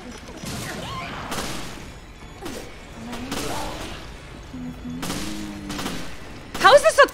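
Weapon fire in the video game Resident Evil: Revelations comes as short bursts of rapid shots separated by pauses, with a sharper burst near the end, mixed with game sounds and a player's voice.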